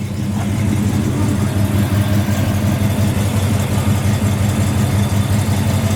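A 1968 Chevy Impala with a 383 stroker V8 and turbo 350 idles through two open chambered mufflers, a loud, close, lumpy rumble holding steady throughout with no talk.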